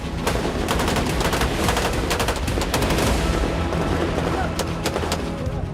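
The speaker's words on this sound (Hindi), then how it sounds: "इस दौरान लगातार रूस के एयर डिफेंस एक्टिव रहे और आसमान में धमाके होते रहे" Rapid bursts of air defense fire and booming explosions in the sky during the Russia-Ukraine war, dense and continuous, sounding like a distant battle with repeated sharp cracks throughout.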